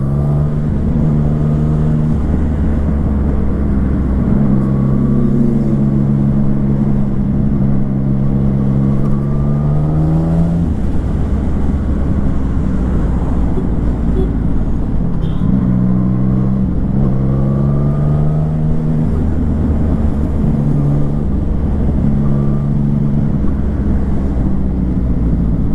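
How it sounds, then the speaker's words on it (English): A Yamaha MT-09 motorcycle engine hums steadily while riding, its pitch rising and falling with the throttle, under constant buffeting wind noise. "I am on easy on throttle because as I told you, I don't know this motorcycle."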